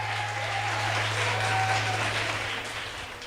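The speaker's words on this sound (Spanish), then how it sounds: "Recibimos con un fuerte aplauso a Noelia García" Audience applause at a TED Club student event in a school auditorium, a dense steady wash of many hands clapping together, fairly loud throughout with a low electrical hum underneath and no one speaking.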